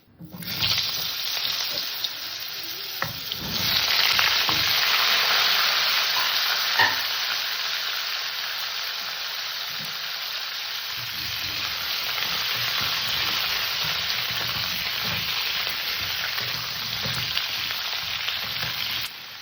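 Cauliflower and cumin seeds frying in hot oil left from frying tilapia, a loud continuous sizzle with stirring and scraping of the pan, close and steady throughout.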